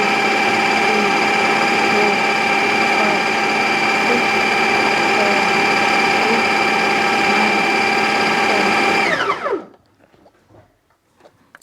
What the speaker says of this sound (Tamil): இந்த ஃபுட் ப்ராசஸில் ஒரு நிமிஷம் அடிக்கணும்